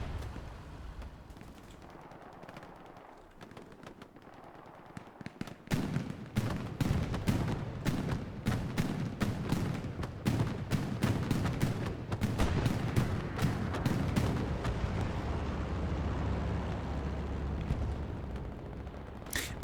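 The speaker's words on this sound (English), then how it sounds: "This is an Allied bombing run." Allied bombing run in the Hell Let Loose game, setting off a long, dense barrage of loud booming explosions that begins after a few seconds of quieter battle noise and keeps rolling heavily to the end.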